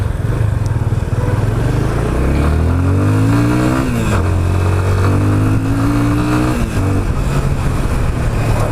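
A 2018 Yamaha Fazer 25 motorcycle on a test ride, its engine droning loud and close while revs climb, dip at gear changes and rise again, over constant wind rush.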